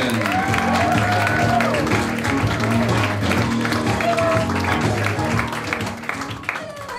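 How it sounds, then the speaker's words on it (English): A live audience at the Red Raw stand-up comedy night claps and cheers steadily for several seconds, a dense sustained wash of applause with whoops and a musical fanfare underneath, tapering slightly at the end. "Will you please clap, cheer, and go wild?"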